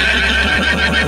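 A horse on a farm gives a single loud, close neigh with a wavering, quavering whinny that fills the short moment on its own.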